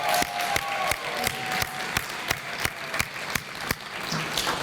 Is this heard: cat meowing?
no